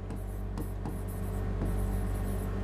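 A marker or chalk squeaks and scratches across a classroom board in quick strokes with short pauses, steady and close, no voices over it.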